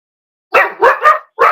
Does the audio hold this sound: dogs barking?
yes